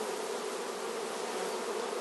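Honey bees on a brood frame of a queen-rearing colony give a dense, continuous buzz, a steady hum filling the whole moment without pause.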